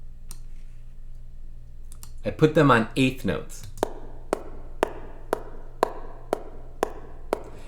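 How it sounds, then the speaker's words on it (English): Sharp high-heel clicks on a concrete floor, repeating at a steady even pace, preceded by a brief spoken phrase. "the sound of high heel shoes on a concrete floor"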